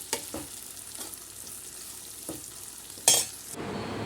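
Onions and spices frying in a pan for Punjabi dhaba-style kadhi pakora, a steady close sizzle with a few stirring scrapes and a louder clatter near the end, no talking.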